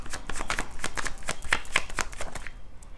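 Tarot cards being shuffled and drawn: a quick run of crisp, papery riffles and soft slaps, close and fairly loud, continuing steadily and then thinning out at the end.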